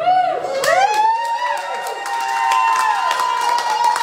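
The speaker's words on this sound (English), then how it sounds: "A crowd at the courthouse cheered Tuesday night as Jasper County Clerk Charlie Davis" A crowd gathered at the Jasper County courthouse cheers as a recall result is announced, rising whoops and yells layered over scattered clapping and crowd noise, loud and close throughout.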